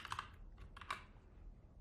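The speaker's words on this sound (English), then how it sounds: "send messages to other stakeholders just by typing" A few quick bursts of keystrokes on a computer keyboard, soft and close, with short pauses between clusters of taps.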